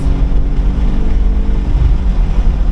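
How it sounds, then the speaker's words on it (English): A 2023 BMW M2 (G87) engine revs out on a race track, a loud, steady, low droning roar from inside the car with no breaks or talk. "I notice I'm really revving it out because it's quiet"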